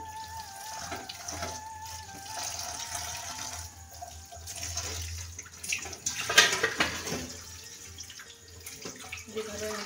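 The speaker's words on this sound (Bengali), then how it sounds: "ঠান্ডা জল দেওয়াটা অবশ্যই প্রয়োজন স্কিপ করবেন না পারলে একটু এভাবে ধুয়ে নেবেন" Cold tap water runs over boiled egg chow mein noodles being rinsed in a sink, a steady close splashing stream with sloshing as the noodles are moved about.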